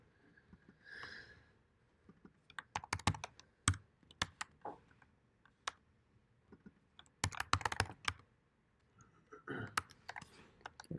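A computer keyboard is typed on in scattered bursts of crisp key clicks, with louder clusters in the middle and near the end, close and fairly quiet in a room with no talking.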